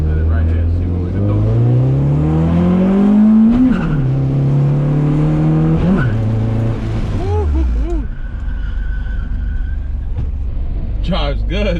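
A Honda Civic EG with a D16 engine drives and shifts gears, its engine note rising steadily then dropping at each shift, loud and continuous, with someone talking over it.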